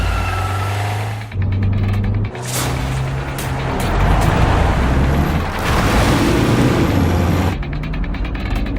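A car drives along in traffic behind a taxi, a steady engine and road rumble with mechanical clunks and a couple of louder passing surges, no talking.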